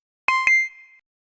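A bus tracking app's notification alert for a school bus: a quick two-note electronic ding, bright and clean, ringing briefly before cutting off in silence.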